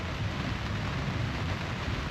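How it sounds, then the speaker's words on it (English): Steady, dense rainfall hissing on surfaces, heavy and close throughout with a low rumbling undertone and no voices. "the rain's getting a bit heavier now"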